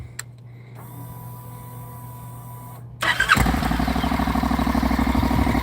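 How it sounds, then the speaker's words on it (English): A Honda motorcycle engine, after a few seconds of quiet hum, catches and settles into a loud, steady, throbbing idle close by. "I just love that sound of the bike."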